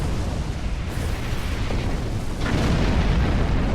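An enemy starship blows apart after torpedo hits in the space combat game Star Trek Online, a dense roaring rumble that swells louder partway through and holds, with no voices.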